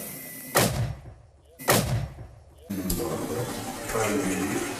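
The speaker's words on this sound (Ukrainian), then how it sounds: "Постріл." Two loud, booming gunshots ring out about a second apart, each echoing briefly, followed by rumbling noise and indistinct voices.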